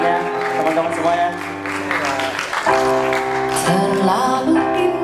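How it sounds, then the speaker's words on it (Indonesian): Applause from colleagues at a farewell party in Denpasar, Bali, clapping under and around a voice speaking over a microphone, with music-like tones running through the background for several seconds. "Tepuk tangannya teman-teman semuanya."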